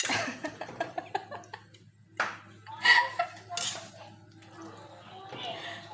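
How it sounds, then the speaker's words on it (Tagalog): A metal utensil stirs a mixture in a cooking pot until it dissolves, with scattered clinks and scrapes against the pot, some sharper knocks, and faint voices in the background. "halo-haloin hanggang matunaw yung pigsa"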